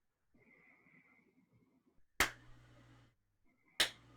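Two sharp, isolated claps ring out well apart, slow and deliberate, over a quiet background with a faint hum between them.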